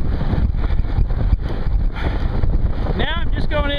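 Gusty headwind of about 8 to 10 mph buffets the microphone of a cyclist on a road ride near Katy, Texas, a loud, rough roar, with a brief voice breaking in at the end.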